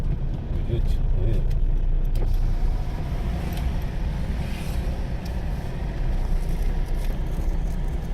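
A car being driven along a city road in Jamshedpur, with a steady, loud engine and road rumble filling the cabin throughout and voices talking over it.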